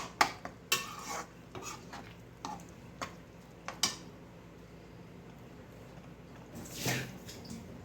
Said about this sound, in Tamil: போட்டு நல்லா ஒரு வதக்கி விட்டுடுவோம்.